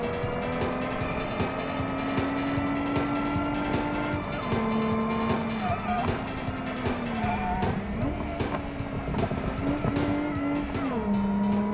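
A minivan races laps in the video game BeamNG.drive, its engine droning loudly and steadily. The pitch climbs and drops back at each gear shift, with tire squeal mixed in throughout.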